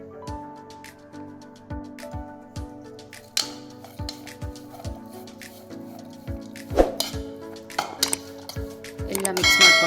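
Salt and chilli powder mixed in a bowl with a spoon, giving a steady run of light clinks and scrapes against the bowl, close and clear, growing busier toward the end.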